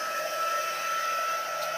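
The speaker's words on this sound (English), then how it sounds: "And then I have my heat gun here." A heat gun blows with a steady, whining hum, close and continuous for the whole stretch.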